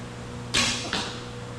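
A compound bow arrow is released and strikes a wall: a sharp, loud burst with a hissing tail, then a second impact crack about 0.4 seconds later, both close by over a steady low hum, with no talking.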